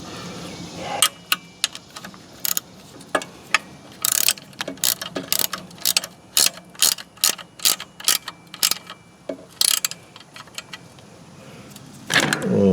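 A hand ratchet tightens a half-inch bolt on a Lastec 3300ZT mower deck during a belt install: close, repeated sharp clicking strokes in quick irregular bursts, no talking.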